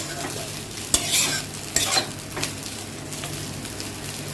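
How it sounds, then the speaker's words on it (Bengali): Food fries in a pan with a constant crackling sizzle, marked by a few sharp scraping and clattering strokes of a utensil early on. "এটা এখন একটু ভালো করে ফ্রাই করব"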